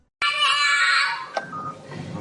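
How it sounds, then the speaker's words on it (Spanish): Sudden loud, shrill screaming erupts from inside a house, a sustained high cry lasting about a second before breaking off into a short sharp burst and fainter trailing sounds. "se empiezan a oír gritos desde el interior de la casa"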